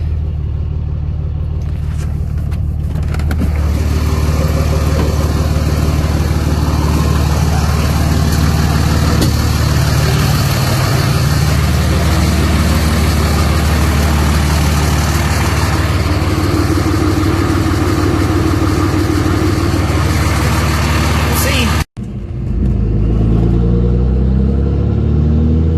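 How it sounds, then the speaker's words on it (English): A Cummins diesel truck engine with a custom intake runs loud and steady, with a constant rumble and a high turbo whistle over it, cutting out briefly near the end. "you can definitely hear that turbo whistle now"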